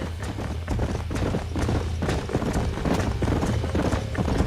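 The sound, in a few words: horses galloping, from a video game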